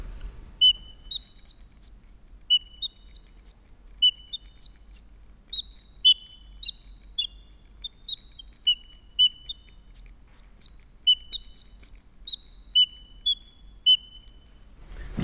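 The world's smallest pipe organ, small enough to fit in a matchbox and blown by a bellows, plays a tune of thin, high, whistle-like notes, short and evenly spaced, clear against a faint low hum.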